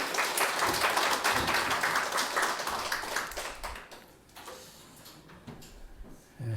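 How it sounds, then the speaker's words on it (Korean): A church congregation at a Sunday service claps, a burst of dense applause that fades out over a few seconds, followed by quieter room noise and a few scattered knocks. "우리 하나님께 감사와 영광의 박수 올려드리겠습니다."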